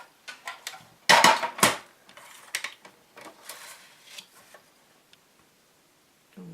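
Close, sparse clicks and scrapes of card stock being cut for handmade card making, a few sharper snips standing out among quieter taps.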